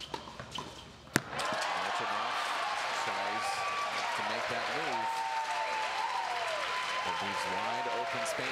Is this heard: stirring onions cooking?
no